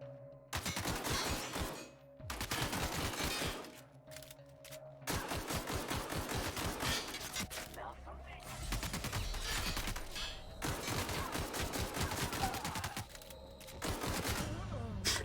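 Rapid automatic gunfire from a gun in a video game rattles out in long, dense bursts separated by short pauses, loud and close throughout.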